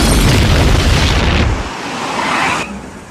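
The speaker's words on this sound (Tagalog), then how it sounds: "Nagkaroon ng malawakang pagsabog doon sa lugar ng mga Simpson." A cartoon explosion in The Simpsons: a loud, roaring blast that sustains briefly, then drops away into a fading rumble and hiss.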